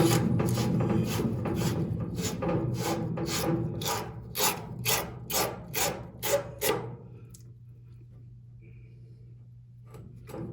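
Rhythmic rubbing strokes on the edge of an exterior faucet pipe during a Sharkbite faucet replacement, a dense scraping run that turns into about a dozen separate strokes, then stops, leaving a quiet hum.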